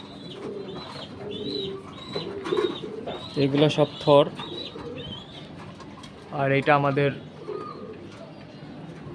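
Racing pigeons in a home loft coo in repeated throaty bursts, loudest in two clusters midway, while someone talks nearby over the birds.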